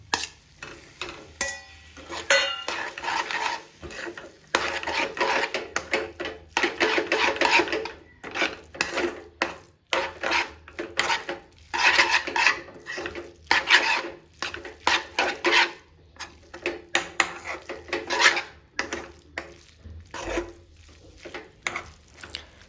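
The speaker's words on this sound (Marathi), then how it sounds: "सगळी मॅगी अशी एकजीव झाली पाहिजे मित्रांनो, चांगले हलवून घ्यायची" Maggi noodles with masala stirred in a pan for street-style egg Maggi, giving a steady run of scraping, rasping strokes with faint sizzling beneath, close and continuous with no talking.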